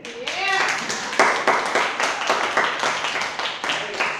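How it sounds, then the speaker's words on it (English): Audience applause at a live battle-rap event, a burst of dense clapping that starts sharp and loud, holds steady for several seconds, then tapers slightly, with a brief vocal sound at the very start. "another round of applause for Renay."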